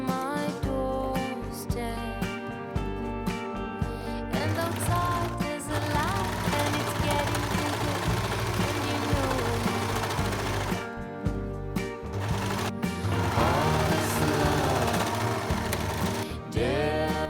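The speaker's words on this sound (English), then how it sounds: "Then sew them together, press and overlock." A sewing machine and an overlocker stitch the skirt of a summer dress to its bodice, a steady continuous mechanical whirring that runs the whole time with no talking.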